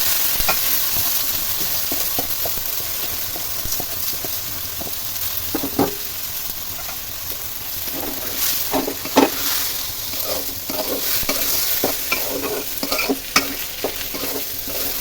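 Onions sizzle in hot oil in a pan while a spoon stirs them, steady frying crackle under frequent scraping strokes and occasional sharper clacks, close and fairly loud.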